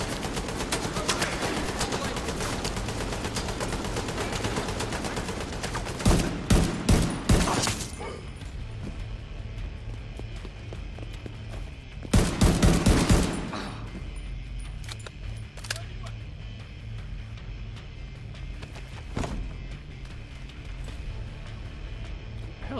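Heavy machine gun fire in The Division 2, with two loud sustained bursts of rapid shots and scattered single shots amid ongoing combat noise.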